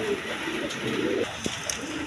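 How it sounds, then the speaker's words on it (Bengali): High-flying Giribaz pigeons coo in a steady, low murmur with a few brief louder calls, heard close by amid background chatter from a pigeon market. "একটা হাই ফ্লাইং গিরিবাস কবুতর"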